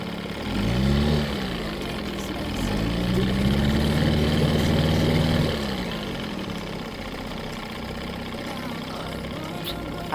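A 1995 Johnson 8hp outboard motor is revved twice, the pitch rising and falling through two short swells before settling back to a steady idle, close and fairly loud.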